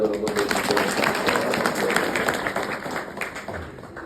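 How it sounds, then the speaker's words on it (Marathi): Loud, dense audience applause at a nighttime village gathering, with a steady wash of clapping that holds for about three seconds and then tapers; it sounds close and fills the room. "एका जोरदार टाळ्या"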